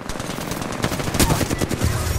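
Rapid automatic gunfire in the video game Apex Legends, loud and close, pouring out in dense overlapping bursts that barely pause across the whole stretch.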